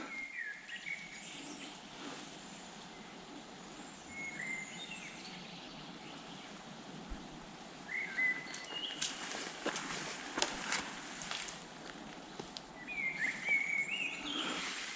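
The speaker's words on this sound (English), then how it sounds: "you can hear the birds and animals in the background coming out to play." Birds chirp and call intermittently in Swedish countryside, faint and distant over a quiet outdoor background, with a few soft rustles and steps near the middle.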